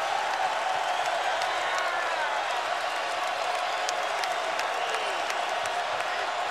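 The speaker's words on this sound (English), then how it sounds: "All of a sudden, John, Texas has given these fans something to cheer about" Basketball fans in an arena at a UConn men's game at Texas cheer and applaud steadily, a dense continuous roar with scattered claps and whoops, broadcast commentary blended underneath.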